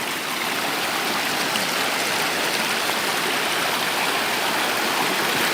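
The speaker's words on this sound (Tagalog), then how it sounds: "malakas ang agos ng tubig" A river with a strong current rushes in a dense, steady broadband wash, loud and unbroken throughout, with no voices.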